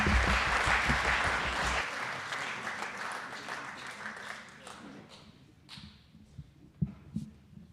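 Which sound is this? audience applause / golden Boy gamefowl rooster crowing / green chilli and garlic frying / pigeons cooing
audience applause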